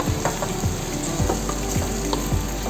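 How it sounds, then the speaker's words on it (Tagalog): Curry chicken browning in a hot pan, a loud dense sizzle with regular spatula strokes scraping through it, near and without speech. "Igisa lang po natin hanggang mag-iba yung kulay niya."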